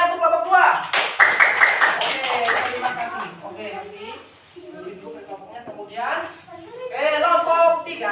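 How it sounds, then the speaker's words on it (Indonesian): A classroom of pupils clapping hands for a group, bursts of brisk clapping from several children close by mixed with chatter and talk, rising and fading in waves. "Sekarang tepuk tangan untuk kelompok 2."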